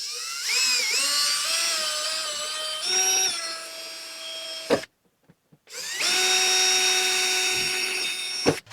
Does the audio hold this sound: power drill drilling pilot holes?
yes